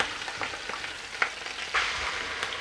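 Korma base gravy cooking in a pan, a steady broad sizzle and bubbling with occasional scraping stir strokes, close and continuous, with no voices.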